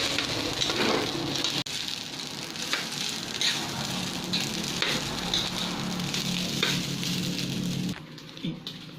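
Last night's leftover dish reheating in a frying pan, a loud, continuous sizzle and crackle that drops away abruptly near the end.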